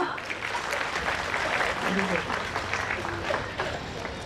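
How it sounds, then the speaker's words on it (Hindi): An audience claps loudly and continuously after a patriotic stage performance at an anniversary celebration, a sustained wash of hands with some voices mixed in. "एक बार फिर से जोरदार तालियां"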